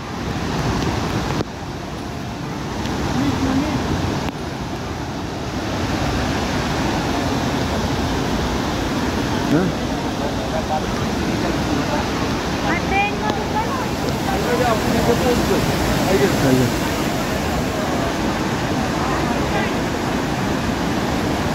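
Steady roaring rush of Dudhsagar waterfall fills the scene, with faint voices talking now and then beneath the continuous noise.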